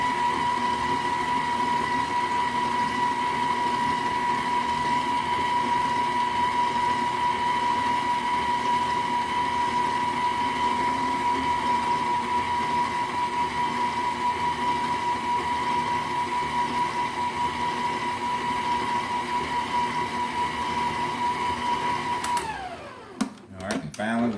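A stand mixer runs steadily at second speed through cheesecake batter for a strawberry cheesecake, a constant motor whine with a faint voice beneath, cutting off abruptly near the end.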